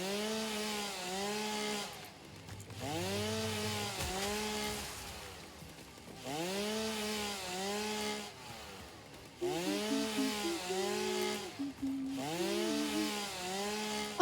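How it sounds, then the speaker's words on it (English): Chainsaw from the video game Satisfactory, a loud continuous buzzing drone that rises and falls in repeated revving cycles every couple of seconds, close and alone without talk. "I'm really sorry for anyone who gets annoyed by the chainsaw sound."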